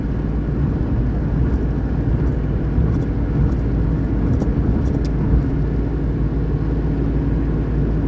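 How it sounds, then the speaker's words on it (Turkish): A Tofaş car cruising at speed on the road, with a steady low engine and road roar and a faint hiss of wind from the mirrors running continuously, with no talk. "Şu aynalardan bir rüzgar sesi geliyor hafif."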